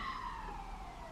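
An ambulance siren outside passes at a distance, its tone gliding slowly downward, faint and muffled against a low background hum.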